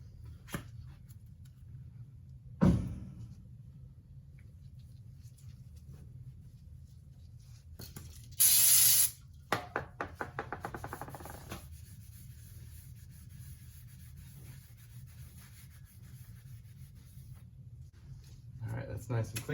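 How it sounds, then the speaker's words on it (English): A short hissing blast of brake cleaner sprayed onto the brake rotor of a 1968 Ford Mustang fastback during a racing brake kit install, followed by faint rubbing and wiping, close up over a low background hum. "I like to get a little bit of brake clean and give my rotor a nice wipe down."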